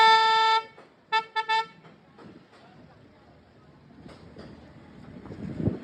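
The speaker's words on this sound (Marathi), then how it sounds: "हॉर्न मार." A car horn on a road trip to Lonavala gives one long loud blast and then three quick short toots, followed by quieter road and engine noise.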